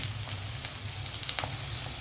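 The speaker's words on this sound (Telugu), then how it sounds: "ఉల్లిపాయలు వేగనిద్దాం" Onions browning in a pan for a chicken and drumstick curry give a steady, close frying sizzle with faint crackles, unbroken and without voices.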